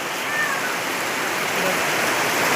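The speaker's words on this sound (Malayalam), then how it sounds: "ഭയങ്കര മഴയാണ്" Heavy rain pours down with water running and streaming nearby, a steady dense wash of noise that stays loud and even throughout.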